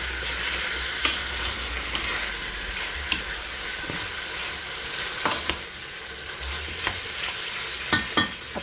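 Chicken apritada stirred in a frying pan, a constant sizzle with scattered scraping taps of the spoon against the pan, close and fairly loud, without talk.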